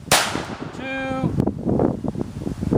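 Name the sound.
Aguila Supermaximum Hyper Velocity 22 LR rifle gunshot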